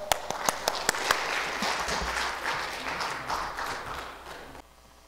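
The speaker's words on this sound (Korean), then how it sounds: "큰 박수로 웰컴해 주세요." Congregation clapping to welcome a pastor at a Korean Presbyterian church service, a few sharp early claps swelling into steady, fairly loud applause that cuts off abruptly near the end.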